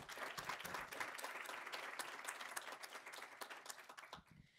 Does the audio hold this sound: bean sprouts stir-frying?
no